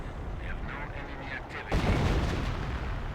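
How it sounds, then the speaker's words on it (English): A 25-pounder artillery barrage in the Company of Heroes video game, with a rumbling field of shell blasts and a heavy explosive burst midway, loud and dense with battle noise. "25-pounder eyeing for a counter barrage"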